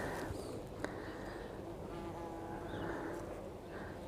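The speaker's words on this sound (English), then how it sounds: "there's a lot of bees up there" Bees buzz softly around a garden, several wings humming close and drifting in and out, over a faint outdoor background.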